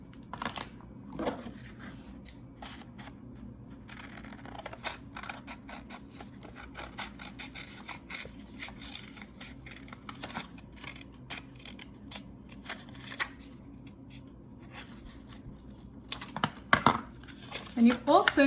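Scissors snip through paper while cutting out a paper jack-o-lantern pumpkin, a steady run of small crisp cuts and rustles, close and fairly quiet, under continuous talking.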